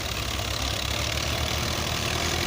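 Tractor engine working at a desert swimming pool construction site while pushing soil up from the pit, a steady low idling rumble, loud and close throughout.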